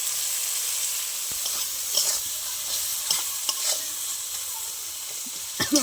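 Winter vegetables and tomato fry with a soft, steady sizzle in a pan, broken by several distinct scraping stirs of a spatula, close and alone without talk.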